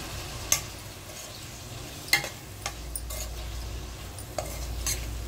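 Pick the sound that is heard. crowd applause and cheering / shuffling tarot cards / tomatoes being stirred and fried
tomatoes being stirred and fried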